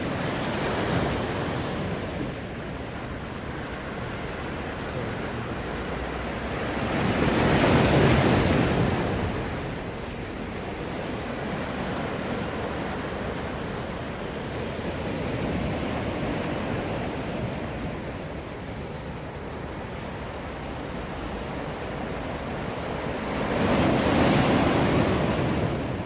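Sea waves surge and break along the shore in two big swells about fifteen seconds apart, with steady wash and wind noise in between; no talking.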